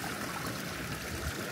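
Water flowing in the Wadi Nouman stream, a steady broadband trickle and rush with no pauses, close and moderately loud with no voices.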